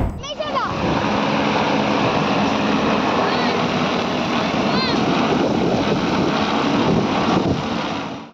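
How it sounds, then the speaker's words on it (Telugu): A hovering agricultural drone roars with a loud, steady rotor whine and rushing wind as its downwash winnows paddy grain, the noise constant throughout. "డ్రోన్ గాలికి ఎగిరిచుట్లా అచ్చే గాలితోని వడ్లను తూర్పారబడుతున్నారు"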